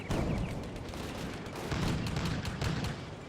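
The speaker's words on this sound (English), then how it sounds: "And of course the machine gun." Machine gun and small arms fire in the Combat Mission: Afrika Korps war game at Bir Hakeim, a dense continuous rattle of rapid bursts with booming undertones, loud and unbroken throughout.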